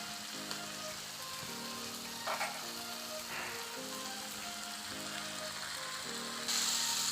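Indomie noodles fry in a pan with added soy sauce while being mixed, a soft continuous sizzle with faint scraping stirs and a brief louder hiss near the end, quiet and close, no talk.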